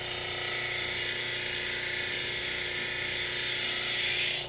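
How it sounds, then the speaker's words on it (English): A wheel being trued against a worn coarse-grit abrasive gives a steady, loud, close grinding whir with a high hiss. It holds unbroken throughout and swells slightly near the end, with no voices. "I'm using a coarse grit abrasive, a worn out one, but it's still got lots left on it"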